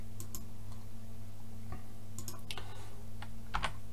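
Several sharp computer keyboard key presses, scattered and irregular, sound close by over a low steady electrical hum.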